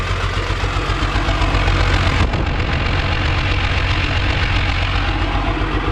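A 1975 diesel squarebody truck engine idles loudly nearby after adjustments, a rough, knocking diesel clatter that holds an even, steady pulse throughout, with no voices.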